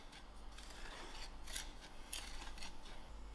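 Semolina being stirred in a pot over medium heat while it browns for soji, a steady scraping, rasping sound close up, with a few sharper scrapes and no talk.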